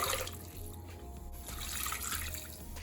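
Water runs steadily into a cooking pot, a continuous splashing pour with a low hum underneath, close by and moderately loud for the full stretch.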